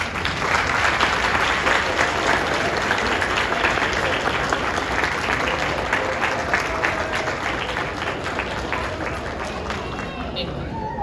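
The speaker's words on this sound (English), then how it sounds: "Graduates, at this time, please stand and applaud your families." Standing graduates at a 2022 high school graduation ceremony in Surry, Virginia, applaud their families: a dense, sustained wash of clapping from a large crowd, loud and even throughout, with faint crowd murmur beneath.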